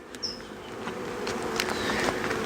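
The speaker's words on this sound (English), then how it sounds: "the wasps are still alive and crawling, wriggling around" A dozen or so live wasps crawl and wriggle inside a queen rearing hive in midwinter, giving a faint, steady insect buzz with brief higher whines over a low background hum.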